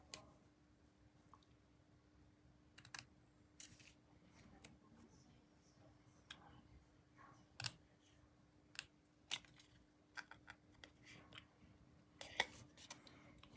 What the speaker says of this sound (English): I'm just going to cut that there, and we're going to make it a little bit of a banner